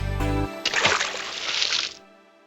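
A fox falls into a deep well in a children's story, making a full splash of water that sprays and sloshes for over a second after a short thump, then cuts off.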